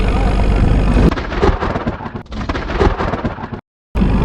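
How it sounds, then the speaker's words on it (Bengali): Thunder rumbles loudly and close during a heavy rainstorm over a remote Sundarbans village, a long rolling roar that breaks off abruptly into a short silence. "বিদ্যুৎ চমকানোর আওয়াজ শুনুন খালি এরকম আওয়াজ হচ্ছে দেখুন"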